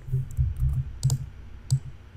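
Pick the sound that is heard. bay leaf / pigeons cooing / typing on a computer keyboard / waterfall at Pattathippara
typing on a computer keyboard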